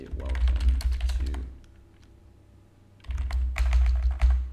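A computer keyboard is typed on in two dense bursts of rapid, close key clicks over a low hum, with a quieter gap in the middle.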